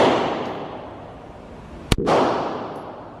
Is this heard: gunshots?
yes